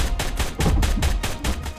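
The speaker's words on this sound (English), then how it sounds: "It's a machine gun tech cannon laser." Tek Stryder's pulse cannon rig in ARK firing a fast stream of punchy energy blasts, about eight shots in under two seconds, loud and steady with no voices.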